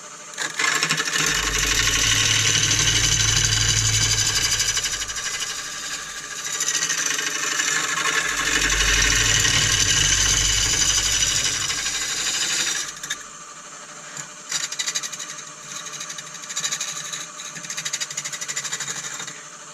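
A wood lathe rough turns a rotten, irregular bowl blank from a fallen tree, giving a loud continuous whirring hum with heavy, rumbling pulses as the gouge cuts, easing to a lighter, uneven spin near the end.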